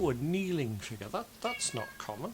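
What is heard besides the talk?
cat meowing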